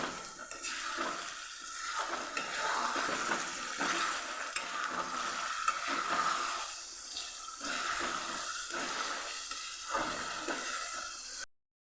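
Tomato gravy for pav bhaji is stirred in a pan, with steady, close scraping strokes repeating in a loose rhythm over a soft sizzle; no one speaks.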